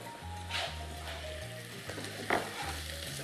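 Garlic and onion frying in a pot while being stirred: a soft, continuous sizzle with occasional scraping clicks of a utensil against the pot, all fairly quiet, over a low steady background hum.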